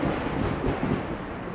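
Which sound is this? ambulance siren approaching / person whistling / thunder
thunder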